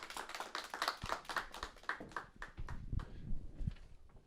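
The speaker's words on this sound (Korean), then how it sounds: "주님께 영광의 박수 올려드립니다." A church congregation at a Korean worship service claps together, a quiet, uneven patter of hand claps of moderate density that continues steadily without voices.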